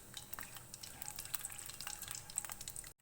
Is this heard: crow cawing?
no